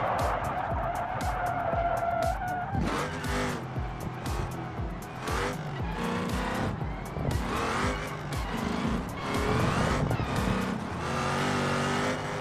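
A race car in the BeamNG video game accelerates out of a banked turn. The engine note climbs through several gear changes, with tire squeal and skidding, and music plays underneath the whole time.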